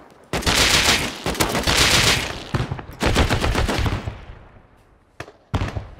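An automatic gun turret in the survival game Rust fires loud, rapid bursts of gunfire. Several long, dense volleys are broken by short gaps and end in a final quick burst.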